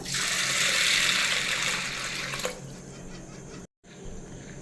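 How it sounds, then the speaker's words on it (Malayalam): Water running over sago pearls as they are rinsed for pineapple payasam, a steady rushing pour that stops partway, followed by quieter faint splashing and a brief dropout. "നമുക്ക് ആദ്യം തന്നെ ചൗരി ഒന്ന് ഇത്തിരി വെള്ളം ഒഴിച്ച് നല്ലപോലെ ഒന്ന് കഴുകിയെടുക്കാം"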